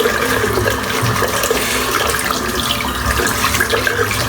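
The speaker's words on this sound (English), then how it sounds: "I'm just going to rinse the brush off." Tap water running steadily into a sink while a shaving brush is rinsed under it, a continuous close splashing rush with no talk.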